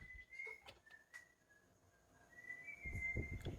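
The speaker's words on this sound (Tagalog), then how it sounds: "May sumisipol." A faint, thin whistle carries in sustained tones and short slides inside an abandoned pastor's house, with soft rustling and a low rumble building toward the end.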